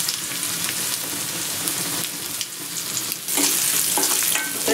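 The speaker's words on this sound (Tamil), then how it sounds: "இப்போ தாளத்தில் கொஞ்சம் தேங்காய் சேர்த்துக்கலாம்" Grated coconut frying in a hot tempering for sorrakkai sambar gives a steady, dense sizzle and crackle throughout, with a brief surge near the end and no talking.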